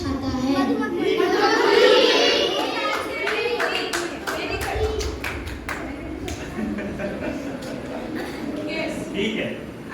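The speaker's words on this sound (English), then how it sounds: "Okay, clapping." A group of children clap together in a classroom, a dense patter of hand claps that swells early and then settles, with young voices chattering underneath.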